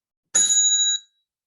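A single bright bell rings once with a clear metallic ping, loud and close, and its tone fades out over about half a second in silence.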